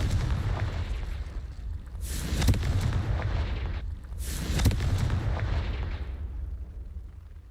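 Two Confringo fire spells explode in the Hogwarts Legacy video game, each a loud booming blast with a rumbling tail, a couple of seconds apart over steady background noise.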